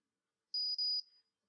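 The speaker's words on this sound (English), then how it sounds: "and just wait for the beep." A Wavytalk Power Wave hair styler gives two short high-pitched electronic beeps in quick succession, clear and close in an otherwise quiet room, with no talking.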